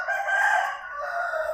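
Rooster crowing outside a house, one drawn-out crow lasting about a second and a half, fairly close and clear with no talk over it.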